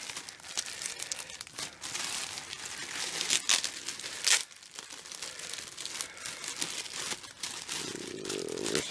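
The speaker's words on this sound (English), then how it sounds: "A little OCD on opening bags" Taped plastic bag packaging crinkles and crackles continuously up close as it is pulled open, with sharper tearing snaps of tape scattered throughout at moderate volume.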